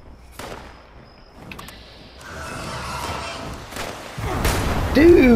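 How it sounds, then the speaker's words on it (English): Scattered gunshots in Fallout 76 during a Halloween trick-or-treat event, starting quietly with a few sharp cracks and thuds, then building into louder, denser fire and rumbling noise toward the end. "Now somebody's shooting at me."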